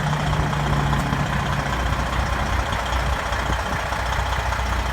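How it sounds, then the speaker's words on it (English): A 2014 Freightliner Columbia 120 Signature Series glider kit truck with a 470 HP engine and 13-speed transmission idling, a steady low diesel rumble held evenly and close throughout. "Engine running."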